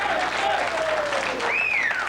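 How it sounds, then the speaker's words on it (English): Loud applause from a rowdy crowd at a 1996 World Cup ski jumping event at Pine Mountain, steady and dense throughout, with whistles rising and falling over the clapping. "A rather rambunctious crowd here, folks, which we enjoy."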